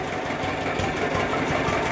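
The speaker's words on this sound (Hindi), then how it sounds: "यहाँ से मोटरसाइकिल सारे जा रहे हैं" Motorcycle engines run steadily on a road beside a collapsed, sunken roadway, a continuous close mechanical drone with no pauses and no talk.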